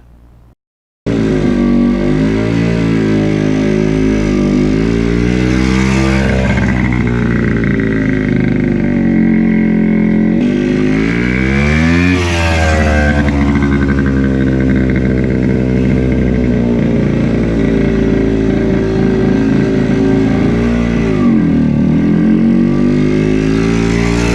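A 1974 Kawasaki F7 motorcycle engine with the muffler internals removed revs loudly up and down in several long swells, a raw buzzy exhaust very close and dominant throughout with no talking.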